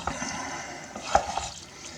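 Spaghetti sauce stirred in a pot for a family meal, a soft continuous scraping and sloshing with faint sizzle, close and steady throughout.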